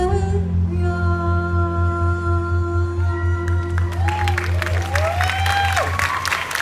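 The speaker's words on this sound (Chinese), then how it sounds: "再次呢给她最热烈的掌声" Audience applause and cheering for a singer at the Singapore Bookfest after she sings a song. Sustained music plays first, then clapping swells in with whistles over the fading tones.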